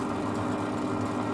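A lathe spinning at about 120 RPM while turning a dart in its chuck, giving a steady, faint mechanical hum with an even low drone and no breaks.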